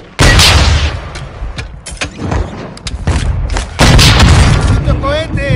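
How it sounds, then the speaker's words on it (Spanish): Rocket explosions in the Warzone video game, a loud deep boom bursting in near the start and another around the four-second mark, with lighter impacts and gunfire-like crackle between them, heavy and close. "¡Los cohetes!"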